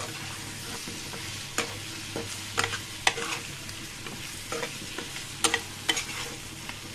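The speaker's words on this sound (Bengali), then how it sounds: "দিয়ে এই পর্যায়ে আমড়াগুলোকে আবারও নেড়ে দিয়ে দিব।" Hog plums (amra) with turmeric and chilli are stirred in a pan, giving irregular scraping and clinking strokes of a spatula over a low, steady sizzle, close and fairly quiet, with no talking.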